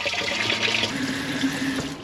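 A boat's bilge pump pushes shower water into the bilge, a continuous splashing, gurgling rush of water with a steady low hum beneath, moderately loud and close, without speech.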